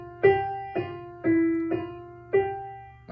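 Piano notes from the Andante of a Clementi sonatina, five clear repeated tones struck slowly and evenly, each ringing briefly before the next, played alone without talk.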